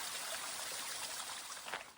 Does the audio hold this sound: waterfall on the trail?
yes